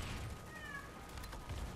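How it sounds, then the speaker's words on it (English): A single faint cat meow rises and falls briefly over low background rumble during a Planetside 2 game on PS4. "that's my cat meowing."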